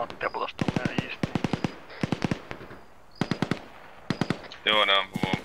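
Gunfire in the video game Arma: loud, close bursts of rapid automatic fire in several rattling volleys with short pauses between them, a voice speaking briefly near the end.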